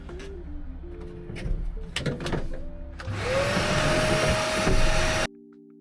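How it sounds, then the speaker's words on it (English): Vacuum cleaner running inside a camper van under repair, preceded by clunking handling noises and a steady background hum, then switching on with a rising whine that holds loud and steady before cutting off abruptly. "Time to vacuum."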